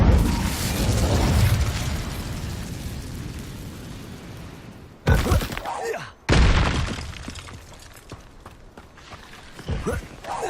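Incendio fire spell cast in the game Hogwarts Legacy, a loud burst and whoosh followed by crackling, with two more sharp blasts later and a voice speaking over the game sounds.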